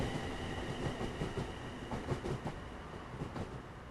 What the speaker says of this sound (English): I've never noticed how good they actually sound going over points before.